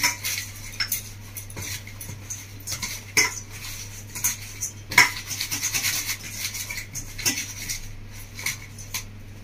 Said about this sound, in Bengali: লবণ হলুদকে খুব ভালো করে বেগুনের সাথে মেখে নেব।